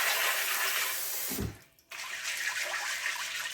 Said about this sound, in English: go to your sink and you want to run some water on them